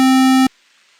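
A synthesizer square wave at 50% pulse width holds one steady, loud, buzzy tone for about half a second, then cuts off abruptly into silence.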